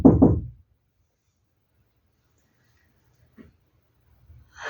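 A door is knocked on during a sermon: a quick pair of sharp, fairly loud raps at the start, followed by near silence with only a faint stray tap.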